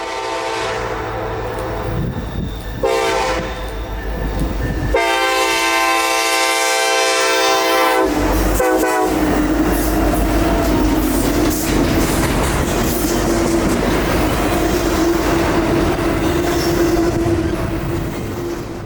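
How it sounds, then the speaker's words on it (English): A Norfolk Southern intermodal freight led by two SD70 locomotives, hauling containers and automobiles, sounds a loud horn blast, then rumbles past close by with steady clattering wheels and a roaring engine drone. "NS-223 was next in line, with a duo of SD-70s pulling a line of intermodal containers and automobiles."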